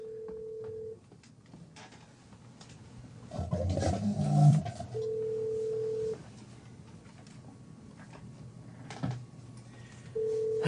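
A telephone call on a radio talk show plays as steady ringback tones from the handset, with a burst of noisy line clatter between rings, fairly close and clear.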